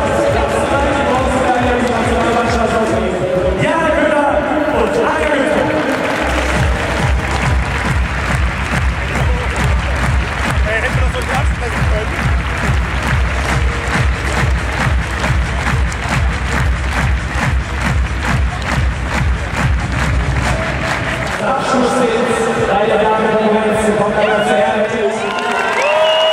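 Crowd at a beach volleyball event claps and cheers loudly and steadily for about fifteen seconds, with a voice talking over the noise before and after the applause.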